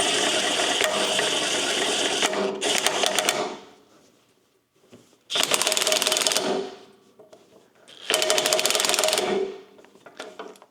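On a Toyota forklift, bolts are tightened while the pulley is held in tension, heard as three loud bursts of rapid mechanical rattling, like an impact or ratchet tool, with short quiet gaps between them.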